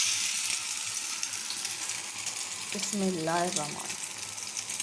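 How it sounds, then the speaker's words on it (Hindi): Bottle gourd kebab balls dipped in egg frying in oil, a dense, even hiss of sizzling throughout, with a brief voice-like tonal sound near the end. "अब मैं इसको फ्राई कर रही हूँ। 1 अंडे में डिप करा मैंने।"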